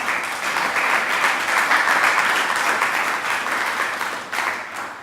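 An audience applauds steadily for about five seconds after a group of people is introduced, a dense even wash of clapping that holds loud throughout and dips briefly near the end.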